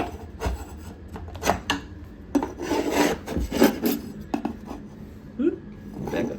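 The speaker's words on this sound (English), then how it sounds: "To fillet that little caulking off so that you can" A blade scrapes and rasps caulking off the edge of an AirPod case in short, irregular bursts of close scratching, heard up close with quiet pauses between strokes.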